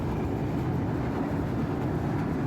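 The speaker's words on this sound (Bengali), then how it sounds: "আজকে প্রথমবারের মতো এই সেতু পার হচ্ছি।" A train crosses the 4.8 km Jamuna railway bridge in Bangladesh, heard from on board as a loud, steady low rumble and roar of wheels and carriages, with no pause.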